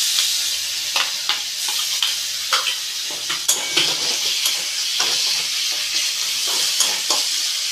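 Onion paste frying in a pan for a tengra fish curry, a loud, close, continuous sizzle with frequent scraping stir strokes and bursts of hissing steam.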